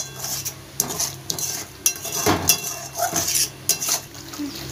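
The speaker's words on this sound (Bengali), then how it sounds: "এবার এটা ভালোভাবে মিশিয়ে নিতে হবে মশলার সঙ্গে" Pieces of pointed gourd are stirred with spices and a little sugar in a pan, with repeated clinks and scrapes of a utensil against metal over a faint sizzle, close and uneven in rhythm.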